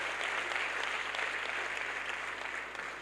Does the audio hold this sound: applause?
yes